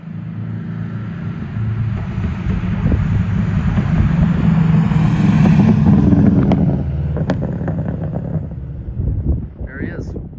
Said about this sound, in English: The pops are really loud. Like I can like feel it in the seat.